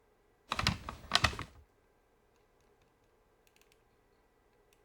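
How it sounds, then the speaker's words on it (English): Keyboard hit sound effects for a film: two loud clattering bursts of keys struck in quick succession, followed by near silence with a few faint ticks. "We had some good keyboard hits already, so we're going to leave those that we have."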